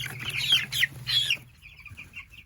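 Young meat chickens in their third week, losing their yellow feathers, cluck in a quick close run of calls under a low hum, then trail off into softer, fainter clucks.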